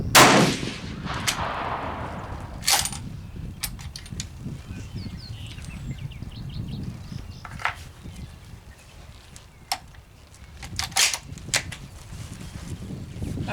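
Single rifle shots from a Steyr CISM firing 168 grain rounds at an outdoor range: a few sharp, separated cracks spaced seconds apart, with mechanical clicks and handling noise between them.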